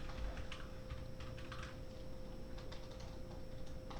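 Quiet keystrokes on a computer keyboard come in short, irregular bursts of clicks over a steady background hum, with no talking.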